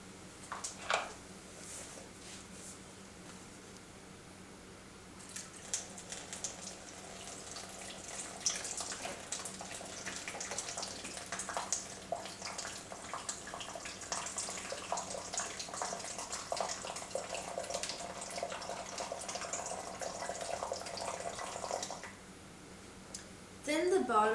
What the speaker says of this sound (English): A small amount of water is poured into the bottle.